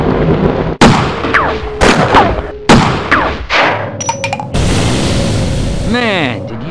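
Several sharp Half-Life video game gunshot effects crack out in quick succession, loud and close, with other game sounds and a voice mixed between the shots.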